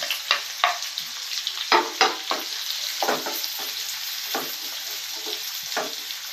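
Chopped onions and green chillies fry in a pan for a fish curry, giving a steady close sizzle broken by sharp scraping strokes of a spatula every half second or so.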